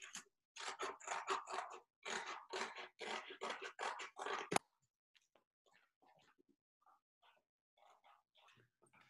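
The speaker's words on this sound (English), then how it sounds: "You guys can actually cut off all these extra flaps that you might have on your box." Scissors snip extra flaps off a cardboard box, a run of about ten crisp, close cutting strokes in quick rhythm, then only faint scattered handling sounds.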